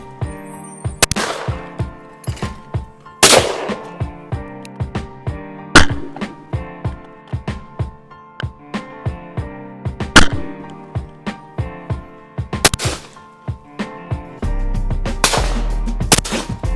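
A Beretta 486 Parallelo side-by-side shotgun fires 28 gram 7.5 shot cartridges at sporting clay targets outdoors, with loud, sharp reports spaced a few seconds apart among quieter mechanical clicks and knocks.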